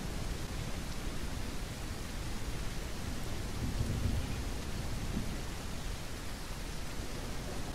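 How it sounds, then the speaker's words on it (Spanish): Steady heavy rain with low rolling thunder from a video game scene, a dense continuous wash of noise that swells slightly midway, with no voices. "ahora está lloviendo, hay partículas y cosas así"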